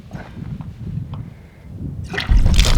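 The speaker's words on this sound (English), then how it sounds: "oh yeah, there's water in there." Water trickles and splashes inside a remote outback water tank, a soft dribble followed by a louder, fuller rush of pouring water near the end, heard close with no talking.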